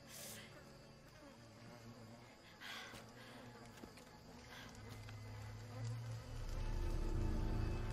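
Flies buzz around blood in Shadow of the Tomb Raider, a steady, close insect drone over quiet game ambience, rising slightly toward the end.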